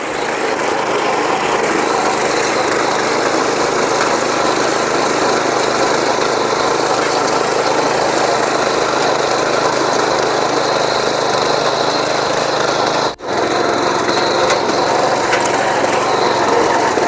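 A small power weeder engine drones steadily at close range, loud and unbroken, with one brief dip before the running continues.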